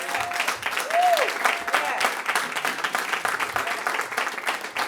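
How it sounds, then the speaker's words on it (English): Applause breaks out from the crowd at a community gun buyback event, a few seconds of steady clapping with a swell near the start and faint voices mixed in. "I think that deserves applause."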